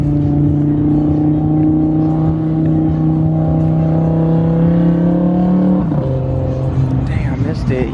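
An Audi R8 pulls away from a car meet with a loud, steady engine drone that drops in pitch as it shifts partway through, close by, with people talking over it.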